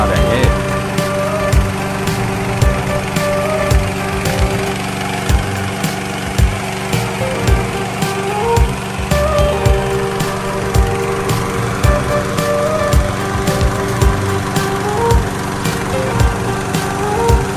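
A gasoline-powered four-wheel-drive remote control lawn mower runs with a steady, loud engine drone while its cutter head is lowered, with repeated sharp clicks and knocks sounding over the continuous mechanical hum.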